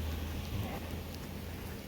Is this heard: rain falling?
yes